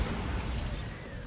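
A Bombarda blasting spell cast in Hogwarts Legacy gives a steady, dense crackling burst of broadband noise lasting just over a second at an even loudness, with no voice over it.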